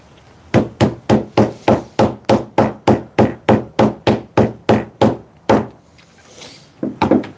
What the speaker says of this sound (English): All right, hammer this one down.